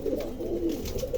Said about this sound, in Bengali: চমৎকার এক জোড়া কবুতর